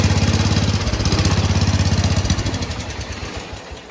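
A 1966 John Deere 110 Round Fender garden tractor engine runs close by with a loud, rapid, even chugging that fades slightly toward the end.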